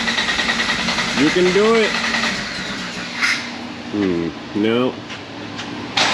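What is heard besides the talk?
1995 Jeep Wrangler 4.0 engine cranking, struggling to start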